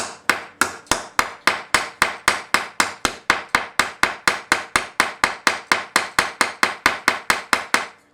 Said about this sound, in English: peen the end of it so that it can't come back through the hole.